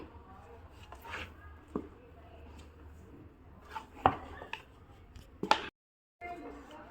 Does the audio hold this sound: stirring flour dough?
yes